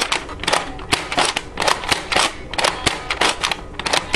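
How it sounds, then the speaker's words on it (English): A battery-powered Nerf blaster fires single shots in a rapid series of sharp, close clacks and thumps, roughly a dozen in quick succession. "You can do that and shoot in single shots."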